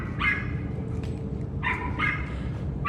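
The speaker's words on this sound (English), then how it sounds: "Dog barking." A dog barks repeatedly at a hotel resort, a few sharp barks in two bursts over steady background noise, moderately distant.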